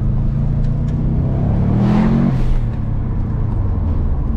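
A Subaru Impreza GC8 track car engine revs up steadily, its loud, continuous drone rising in pitch and then falling back to idle, with no talk over it.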